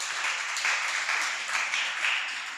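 An audience at an entrepreneurship bootcamp at Ruharo Vocational Training applauds Dr. Manasseh. The hand clapping is dense and steady, at moderate level, and swells slightly in waves across the whole stretch.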